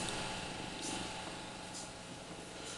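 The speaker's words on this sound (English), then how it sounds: "If we all don't know, this is Jack. Jack the kitty" A house cat purrs softly and steadily up close, a faint continuous low rumble with no talking over it.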